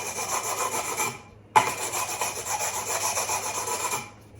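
Finer-grit abrasive rasps back and forth across the metal frets of a cheap guitar in close, steady rubbing strokes, with a brief pause and a sharp tap midway before the scraping resumes.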